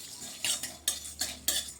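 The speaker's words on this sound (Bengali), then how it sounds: "এখন এটা ভালোভাবে এই মশলাটাকে ভেজে নিচ্ছি" Panch phoron and mustard seeds dry-roasting in a pan are stirred in about five quick, rhythmic scraping strokes of a utensil against the metal, close and moderately quiet, with a faint rattle of seeds between strokes.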